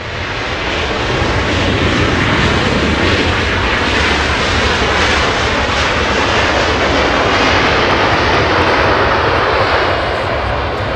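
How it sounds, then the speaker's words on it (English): A Southwest Boeing airliner landing at LAX after a flight from Oakland makes a loud, steady, close engine roar that holds throughout with no voices. "we can get Southwest 483 flying in from Oakland to California"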